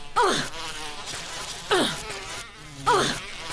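Bees in the video game Resident Evil Remaster buzz past in three swelling, whining passes, each rising sharply and then trailing off, loud and close, with a low droning background between them.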